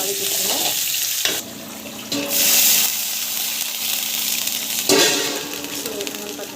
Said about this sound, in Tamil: போட்டு நல்லா வந்து வதக்கிக்கணும்.